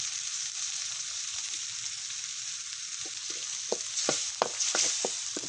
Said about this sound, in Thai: ผัดให้กะทิแตกมันนะคะ